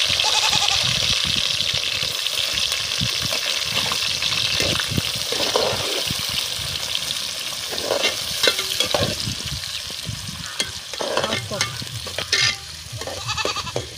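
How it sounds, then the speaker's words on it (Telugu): Onions and green chilies fry in hot oil for a village-style country chicken curry, with a steady broadband sizzle and scattered stirring scrapes throughout, close and fairly loud. "ఉల్లిపాయలు కూడా అయితే వేస్తుంది ఫ్రెండ్స్, చూస్తున్నారు కదా ఉల్లిపాయలు కూడా అయితే వేస్తుంది."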